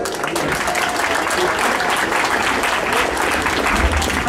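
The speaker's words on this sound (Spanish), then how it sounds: "que vengan los aplausos" A seated audience at a civic recognition ceremony in Patzún applauds, continuous even clapping throughout with no break, fairly close and loud.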